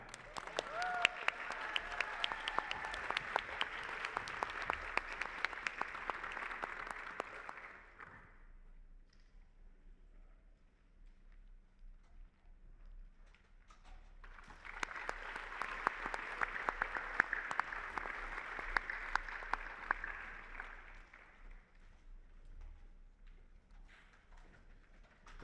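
Audience applause at the 7th World Dental Hygienist Awards Ceremony, two sustained bursts of crowd clapping separated by a quieter lull of about seven seconds with faint room noise.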